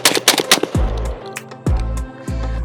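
An ATI Bulldog bullpup shotgun fires shells in quick succession, several sharp, loud blasts close by, each followed by a booming low decay.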